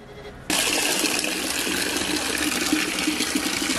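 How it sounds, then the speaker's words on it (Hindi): Water gushes into a container at home, starting abruptly after a short quiet moment and then pouring as a loud, steady, close rush until the end. "मैं अभी पानी भरने जा रही हूँ।"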